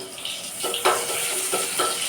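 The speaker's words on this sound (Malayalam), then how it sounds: "നമുക്ക് കറി വറുത്തിടാം കേട്ടോ" Curry fries in a pan in a home kitchen, giving a soft, steady sizzle with a few brief stirring clinks and scrapes, close but fairly quiet.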